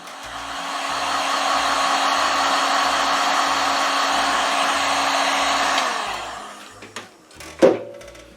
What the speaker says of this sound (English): I'm going to try and heat this up with the heat gun